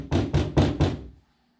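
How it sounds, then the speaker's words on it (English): Four firm knocks on a door in an even rhythm, close and fairly loud, followed by quiet; no one speaks. "there's a knock at the door."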